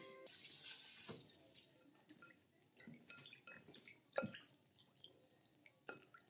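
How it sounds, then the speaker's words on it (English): Water from a tap runs and drips into a sink while the last of a can of cream of coconut is rinsed out, a faint, intermittent splashing with a few clinks, distant and quiet. "I'm just rinsing out the rest of this cream of coconut to make sure I get it all"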